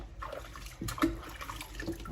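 Shampoo water poured from a cup over a Havanese puppy in a tub, giving soft splashes and trickles with a few drips, quiet and close, with no talking.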